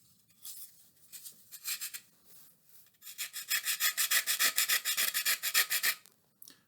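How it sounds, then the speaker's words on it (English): Small pieces of paddle pop stick timber being hand-sanded, heard as short scratchy strokes: a few scattered passes first, then a quick steady run of rhythmic rubbing strokes, close up and fairly quiet, with no talking. "Doesn't take long to sand such fine little pieces of timber."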